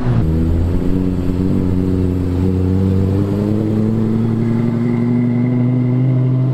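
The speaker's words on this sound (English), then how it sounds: "So that was a black Lexus LFA, one of the best sounding V10 cars in the world." A black Lexus LFA V10 supercar drives away on a London street, its loud, smooth engine note holding close and steady, then easing as it pulls off.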